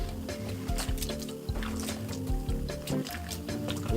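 Liquid swished and stirred inside a deep fryer during cleaning, giving a continuous wet sloshing with repeated squishy strokes, close and steady throughout.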